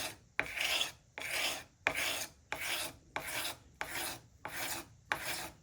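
A hand scraper blade scrapes dried glue off a wooden marquetry panel in eight steady, rasping strokes, each about half a second long with short pauses between, close and clear with no talk.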